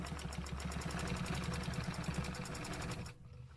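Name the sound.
sewing machine stitching a line on a quilt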